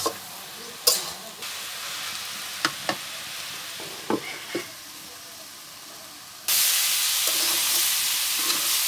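Cabbage bhaji with beans is stirred and fried in a pan, a low sizzle punctuated by scattered utensil knocks and scrapes, then a loud, bright hiss of steam and frying surges up near the end.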